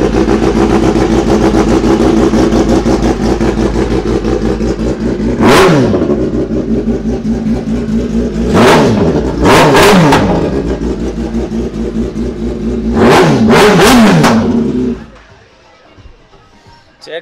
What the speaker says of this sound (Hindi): चलो एग्जॉस्ट नोट चेक करो यार ZX10R का